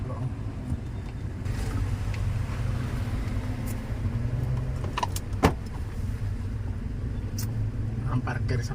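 Slow traffic jam on a road on Samosir Island at Lake Toba, with a steady low rumble of engines and idling vehicles close by, a few brief clicks and knocks, and people talking intermittently over it.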